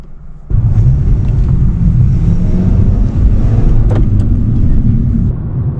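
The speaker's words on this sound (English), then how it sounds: "I did a test drive that same day after the service was done to make sure the car runs smoothly." A Nissan with a CVT, freshly serviced with new fluid and filters at about 95,000 miles, drives on a test run, giving a loud, steady engine and road rumble from inside the cabin.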